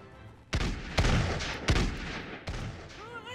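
Heavy cannon blasts in Totally Accurate Battle Simulator, with four loud booming shots spaced about a second apart, each leaving a rumbling tail, then faint whistling projectiles at the end.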